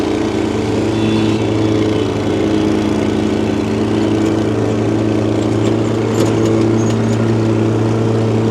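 A leaf blower runs steadily in a yard, its motor giving a loud, constant drone and whoosh as debris is pushed outward. The sound holds close and unbroken throughout, with no talking.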